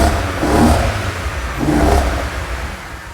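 Repaired engine of a wrecked BMW revving, two rising and falling blips of the throttle over a rumbling idle, close and fairly loud with no talking.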